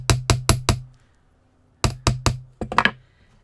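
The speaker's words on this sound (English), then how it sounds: "Every time I harden this, hammer it, it gets a little bit harder, the wire does" Metal wire is hammered on a bead-work table to harden it: two clean runs of four evenly spaced, crisp taps separated by a pause, then a quicker cluster of lighter knocks, close and alone.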